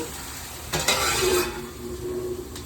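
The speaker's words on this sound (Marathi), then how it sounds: "पुन्हा एकदा आपण हे सगळं एकजीव करून घेऊया." A spoon stirs a Maharashtrian sushila breakfast mixture with salt, grated coconut and coriander in a pan. Scraping strokes come over a soft, steady sizzle, close and moderately loud, with no talking.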